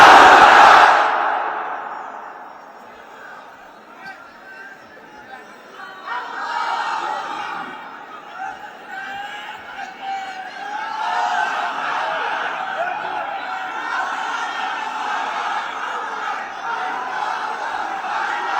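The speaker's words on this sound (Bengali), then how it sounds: "সবাই মিলে তিনটা তাকবীর পড়েন।" Large congregation at an Islamic sermon chanting the takbir together, a broad roaring mass of voices rising and falling in waves, heard from within the crowd after an opening loud burst.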